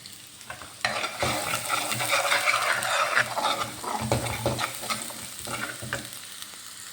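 Finely chopped onion and half-cooked chicken fry in a hot pan with a close, steady sizzle, punctuated by repeated scraping and stirring clatter; no one speaks.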